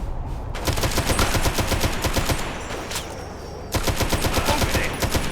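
Rapid automatic gunfire in Fallout 3's Operation Anchorage battle, loud and close, with steady rattling bursts that briefly ease off before another sustained burst kicks in.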